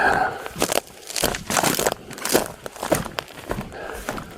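Crunchy footsteps on dry ground, a steady walking rhythm of crackling, crinkling steps close by, with no talking.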